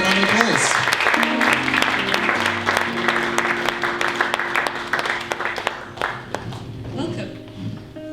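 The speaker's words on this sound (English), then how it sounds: "Where's the round of applause?" A book-event audience claps for the moderator being welcomed, steady dense clapping throughout with music or tones ringing underneath and some voices mixed in.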